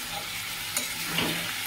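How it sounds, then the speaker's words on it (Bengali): Pumpkin and shrimp with salt and turmeric are stirred in a pan: a faint, steady sizzle with soft scraping strokes of the spoon, heard close and alone. "লবণ আর হলুদ দিয়ে ভালো করে আমি একটু নাড়াচাড়া করে নেব"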